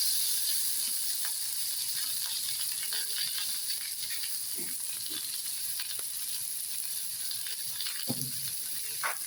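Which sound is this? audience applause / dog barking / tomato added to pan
tomato added to pan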